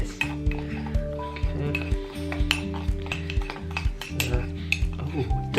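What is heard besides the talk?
stirring gingerbread mixture in a mug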